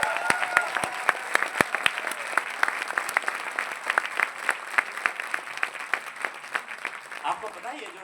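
Audience applause at an Amway business seminar in Prayagraj, a lively crowd clapping with distinct sharp individual claps standing out, thinning and tapering off toward the end.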